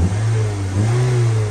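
A 2005 Toyota RAV4 with a 2700 cc engine revs close by, a steady mid-pitched engine drone rising slightly in pitch and holding high before easing off.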